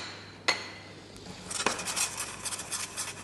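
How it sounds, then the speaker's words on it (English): Walnuts clatter into a very hot pan with a sharp clink, followed by a second knock and then a run of light, rattling taps and scrapes as they are moved around. "Now we have some beautiful walnuts which we need to roast a little bit."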